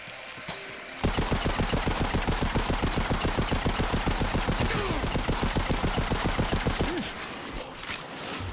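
Rapid automatic gunfire from a Borderlands 3 boss fight against Aurelia, a loud, steady stream of evenly spaced shots running for about six seconds before cutting off, with scattered game effects around it.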